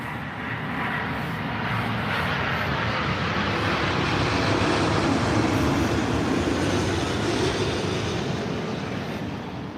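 An American Boeing 777-200 from Dallas arrives at London Heathrow. Its jet engines make a steady, loud, broadband roar that holds for the whole stretch with no voices.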